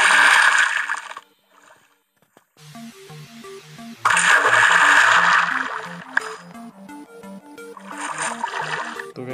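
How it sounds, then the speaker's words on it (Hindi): Splashing and gurgling water sounds from swimming in Minecraft come in bursts, set against a repeating game music melody, loud and close, with a brief quieter gap in the middle. "तो नीचे चलते हैं, स्विमिंग करते हैं पहले थोड़ा सा।"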